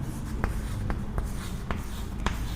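Marker or chalk writing numbers on a board during a class 5 maths lesson, with scratchy strokes and several sharp taps at irregular intervals over a low background murmur.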